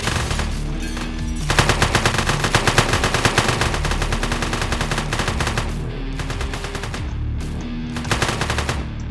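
Rapid automatic gunfire from the video game One Armed Robber during a jewelry store robbery, dense continuous bursts of shots running loud and steady throughout with no talk.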